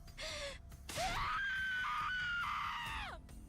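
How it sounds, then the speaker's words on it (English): A drawn-out, high-pitched female scream in a horror video game, opening with a brief cry, then rising into a loud sustained shriek that wavers and falls away after about two seconds. "Jesus Christ, what a scream."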